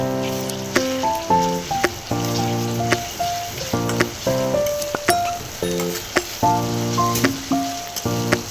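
Ginger garlic paste sizzling with mushrooms in a pan while being stirred, a steady close frying crackle broken by repeated sharp taps and scrapes of a utensil against the pan.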